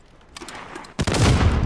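Gunfire in the Warzone video game: a short burst of shots erupts about a second in and carries on as dense, loud rapid fire after a few quieter scattered pops.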